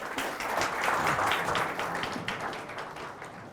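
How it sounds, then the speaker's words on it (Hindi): Audience applause at a UPSC exam guidance seminar, steady clapping from a crowd that holds evenly for a few seconds before starting to taper off, with no speech over it. "इसके बाद मधुकर सर को मैं जो है आमंत्रित करता हूँ तालियों से जो है।"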